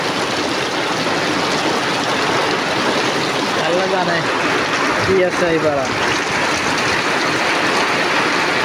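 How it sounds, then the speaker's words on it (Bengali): Heavy rain from a Kalbaishakhi storm pours onto tin roofs in a steady, dense roar that never lets up, while a person speaks briefly partway through. "বৃষ্টি বেশি হচ্ছে এখন"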